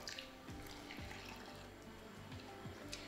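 Water poured from a kettle onto coffee grounds in a cafetiere, a soft continuous trickling pour with a few faint glugs, quiet and close, with no talking.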